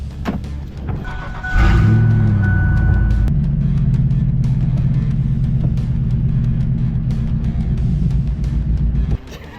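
A 5.0-swapped Ford Ranger pickup cranks and catches, then settles into a loud, steady, rumbling idle that runs close by for several seconds before cutting off.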